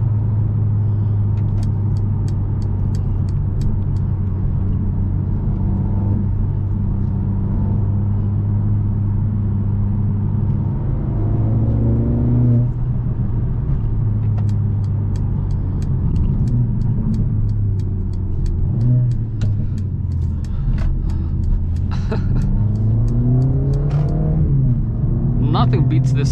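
A 2021 Mercedes-AMG CLA 45 Coupe's engine drones steadily from inside the cabin while driving, with rising revs, gear changes and crackling exhaust pops, loud and continuous throughout.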